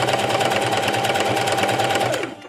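A sewing machine runs continuously, stitching up to a seam on a corset top: a steady, close mechanical whir with rapid needle rhythm that slows and stops at the very end.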